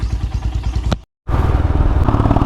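A Kawasaki Z900 sport motorcycle engine, warmed up, idles loudly and close by with a rapid, throbbing pulse, briefly cutting out before revving back up.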